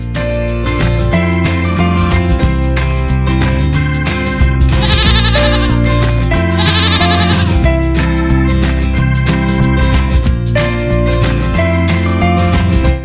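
A goat in a cartoon farm-building game gives two short, bright bleats in the middle, set over steady, loud background music that plays throughout.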